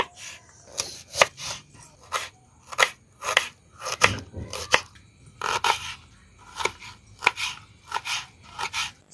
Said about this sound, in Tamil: ஃபஸ்ட்டில் பூண்டு நறுக்கலாம்.